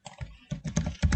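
Keystrokes clatter on a computer keyboard during web page coding, arriving in three quick bursts of close, dense tapping within about a second, with no talking.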